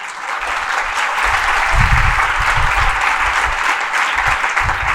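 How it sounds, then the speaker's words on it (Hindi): An audience at a motivational induction class claps hands, a loud, continuous burst of applause filling the room for about five seconds with no talking. "अथवा ताली बजा लिया करो।"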